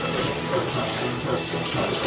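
Shower water runs steadily during a rinse, a dense continuous hiss and spatter of spray close by with no pauses.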